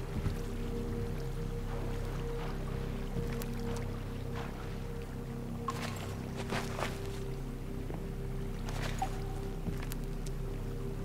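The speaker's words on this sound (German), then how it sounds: "Ein Wasserstrom." Flowing water stream in the Minecraft video game, a steady, fairly loud rushing wash that runs throughout with a layer of sustained tones beneath it.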